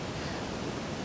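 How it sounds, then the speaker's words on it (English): Rapids at Blakeney Rapids in Mississippi Mills rush in a steady, broadband roar of flowing river water, continuous and fairly faint with no voices or other sounds. "the rapids are flowing greatly"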